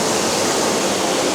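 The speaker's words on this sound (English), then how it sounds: "We're going up the waterfall, into the water." Water pours steadily down an indoor waterfall at teamLab Planets in Tokyo, a dense, even rushing wash that fills the space closely and continuously with no break.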